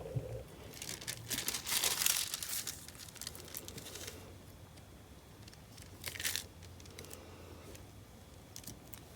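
Medical exam paper crinkles and rustles in bursts as it is handled and moved for a mixed media art piece, louder crumpling early on and again near the end, close by with no talking.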